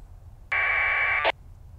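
An APRS data packet on 144.390 MHz comes through a ham radio receiver as a single loud burst of warbling digital tones, about a second long, over faint background hiss, ending with a short click.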